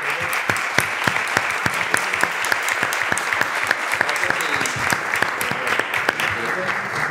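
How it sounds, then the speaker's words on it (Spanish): An audience at a Start Comillas market places event gives sustained applause: dense, steady clapping from a crowd, with a few sharper close claps standing out. "un aplauso muy fuerte"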